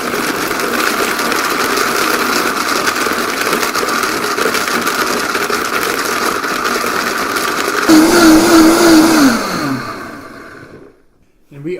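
A Vitamix blender runs at high speed blending cherry chipotle BBQ sauce, a loud steady whirring drone that briefly rises in pitch, then winds down and stops near the end.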